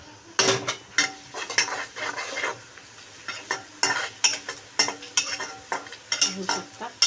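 Browned onion with added turmeric in oil for zunka, stirred in a pan with a spatula, giving intermittent scraping clinks over a soft frying sizzle, close and moderately loud, no talk.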